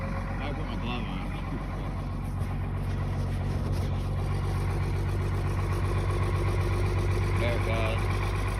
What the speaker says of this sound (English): That should kick into 3-cylinder high idle.